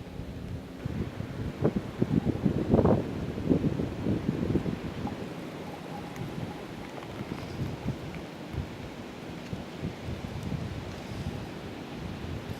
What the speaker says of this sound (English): it has definitely got some pretty strong breezes coming up here